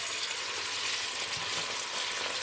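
Mutton pieces frying with golden-browned onions in a pot, a steady close sizzle with faint stirring underneath and no voices.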